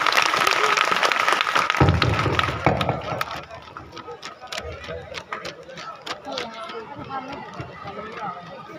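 Loud audience applause at a college stage performance on Indian independence history, dense and broadband in the first few seconds, then thinning into scattered claps beneath crowd chatter.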